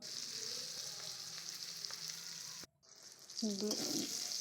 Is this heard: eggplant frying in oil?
yes